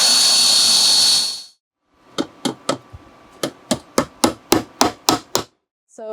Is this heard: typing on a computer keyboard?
no